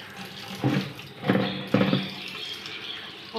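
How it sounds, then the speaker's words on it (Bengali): Chicken rinsed under a running kitchen tap, with water splashing and pattering in three or four bursts over a low background hiss, close by and no talking. "বন্ধুরা, চিকেনটা ধুয়ে নিই।"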